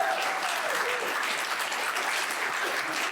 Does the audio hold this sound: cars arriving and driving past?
no